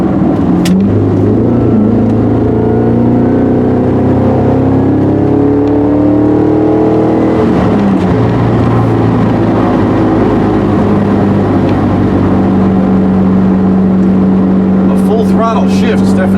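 An LS V8-swapped Porsche 944 pulls hard under acceleration, its deep engine drone climbing steadily in pitch, easing off midway and then pulling again, loud and close from inside the car.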